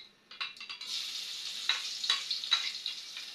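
Garlic and onion hit a hot pan and sizzle loudly and steadily, a bright hiss that swells after a few scraping stirs and carries on with brief rises as the pan is stirred, no voices.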